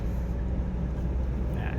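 A 2014 Isuzu D-Max Hi-Lander 2.5 Z VGS manual pickup engine runs smoothly with a steady, low, fairly faint hum.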